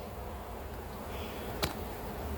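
Honey bees buzzing steadily around an open hive during an inspection, a continuous close drone with one brief sharp tick partway through.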